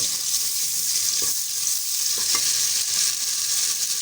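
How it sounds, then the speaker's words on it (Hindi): Onions frying in a pan for aloo anday, a steady close sizzle that hisses evenly throughout with a few faint stirring scrapes and no talking. "आलू अंडे में ज़्यादा प्याज अच्छा नहीं लगता, इतना ही हम डालेंगे और फ्राई करते हैं"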